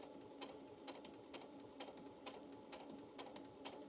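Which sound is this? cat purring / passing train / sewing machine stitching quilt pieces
sewing machine stitching quilt pieces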